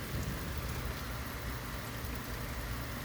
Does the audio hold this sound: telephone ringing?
no